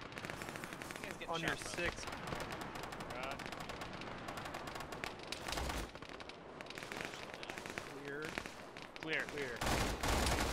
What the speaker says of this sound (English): There's still someone shooting down here.